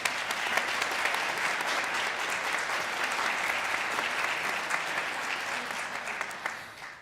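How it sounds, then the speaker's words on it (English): Warm applause from a worship service congregation welcoming a new staff member named Mandy, a steady, dense wash of clapping that holds for about six seconds before tapering off. "So now, Mandy, applause."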